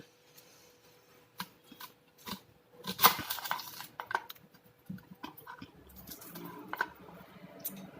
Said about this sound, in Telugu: దీన్ని సింపుల్గా ఇలా కట్ చేసేసుకోవాలండి